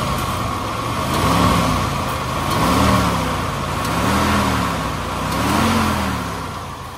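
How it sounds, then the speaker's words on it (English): A 1946 Chrysler Town & Country engine cranks slowly with a steady, rhythmic, loping rise and fall, loud and close, over a continuous mechanical drone. "It sounds slow cranking"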